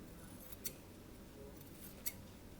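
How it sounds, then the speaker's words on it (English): Scissors cut paper in two quick, faint snips about a second and a half apart, close by in a quiet room. "I'm going to cut some of this off. Cut this in half."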